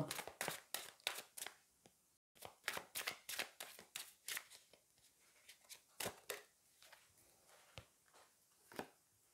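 Tarot cards are shuffled by hand in a quiet room, a series of soft, crisp riffling snaps and flicks, close but faint. A short silent gap comes near the middle, and no speech is heard.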